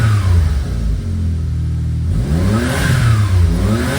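A Suzuki Jimny engine revs up loud and close, rising and falling in two swells with a steady mid-pitched rumble and no talk.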